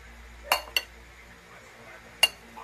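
Utensils clink three times against a bowl while an ampalaya, cucumber, mango, onion and ginger salad dressed with vinegar and salt is tossed. Short metallic taps stand out over a quiet room.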